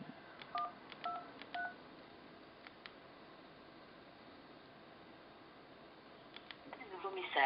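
Keypad dialing tones from a BlackBerry Storm 2 9520 touchscreen phone, several short beeps in quick clusters followed by a pause and a few more, close and clear over a faint hiss, with soft speech in the background.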